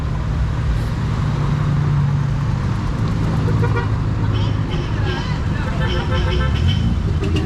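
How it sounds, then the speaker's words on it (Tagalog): Motorcycles and cars roll past in a victory ride parade along the Davao coast, a loud, steady wash of engines and road noise with repeated horn toots and honks, and voices talking nearby. "Namiyo na mga motor, mga sakyanan na po."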